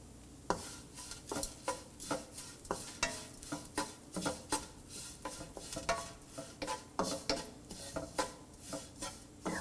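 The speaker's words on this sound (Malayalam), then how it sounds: "ഇതിലോട്ട് നമ്മൾ എടുത്തു വച്ചിരിക്കുന്ന കുരുമുളകും പെരിഞ്ജീരകവും ഇട്ട് വഴറ്റുക." Coconut sautéing in a pan with black pepper and fennel seeds for a shrimp theeyal, with a steady run of scraping stirring strokes and soft sizzling under them, close and without talk.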